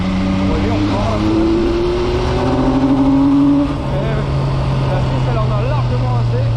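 MV Agusta Rivale motorcycle engine under way, revving up and down through several rising and falling pitches, heard close and loud beneath a voice speaking French.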